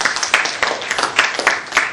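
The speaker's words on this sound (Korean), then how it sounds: "박수는 이제 끝날 때까지 좀 자제해 주시면 고맙겠습니다" Audience at a local election candidates' debate applauding, a short burst of steady, fairly close clapping from a modest crowd.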